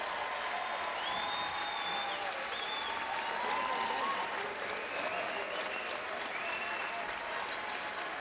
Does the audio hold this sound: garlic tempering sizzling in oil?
no